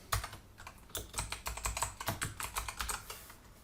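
Typing code on a computer keyboard, a quick run of soft, close key clicks in uneven bursts, quiet and alone, with no talking.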